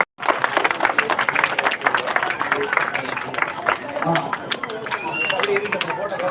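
An audience at a ceremony honouring Ponnar Shankar folk drama artists claps in a sustained burst of applause and crowd noise, with a voice speaking over it.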